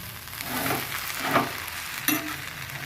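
Wild greens stir-fried in a pan with salt, a steady close sizzle with scraping stirs and a sharp clatter near the end, no talk.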